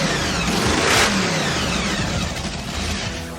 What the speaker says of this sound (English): It's one of those cars you're gonna hear it coming from a couple miles away.